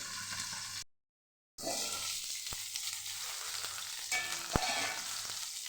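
Chillies frying in a pan for Kathiyawadi chilli kadhi, a steady close sizzle broken by a brief silence, with a few faint clinks as they are turned.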